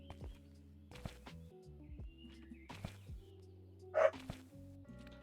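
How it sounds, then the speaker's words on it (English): Dogs barking in a room, several sharp separate barks scattered through the moment, fairly close and moderately loud, with a louder burst near the end. "you guys probably hear my dogs."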